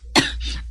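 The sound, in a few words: coughing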